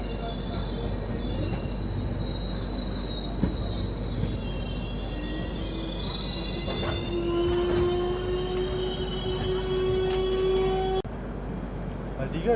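The Visakhapatnam–Araku train pulling into Bodavaram railway station, a steady rolling rumble with a rising high wheel squeal and a sharp tone near the end as it slows, heard close by.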